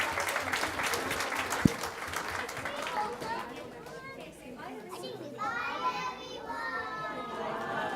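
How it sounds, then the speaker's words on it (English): An audience at a school board of trustees meeting claps for a children's performance. Moderate applause mixes with children's chatter and voices throughout, faint and somewhat distant. "And audience, give them a big applause."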